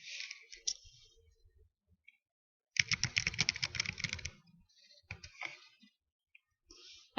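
Quiet bursts of typing on a computer keyboard, with clustered key clicks separated by short pauses and a dense flurry in the middle.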